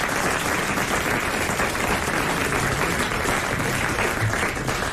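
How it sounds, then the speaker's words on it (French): Studio audience at a French radio show applauding, a dense, loud, steady burst of clapping lasting the whole stretch with no voices over it. "nous applaudissons Isabelle Mergot et Evelyne Leclerc"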